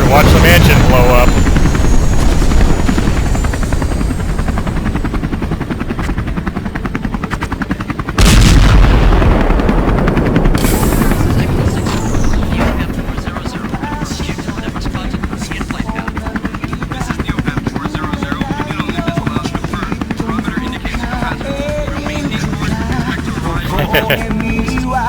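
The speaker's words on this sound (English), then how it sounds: "I can look out the helicopter and watch the mansion blow up." Helicopter rotor noise from the Resident Evil video game sounds steadily loud throughout, while the mansion explodes, with a sharp boom near the start and another burst soon after.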